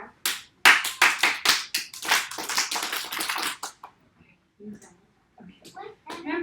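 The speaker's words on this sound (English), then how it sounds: "I'm gonna clap and then you guys clap back" A rhythmic run of sharp hand claps, about a dozen quick and loud at first, then a few softer scattered claps with a voice talking in between.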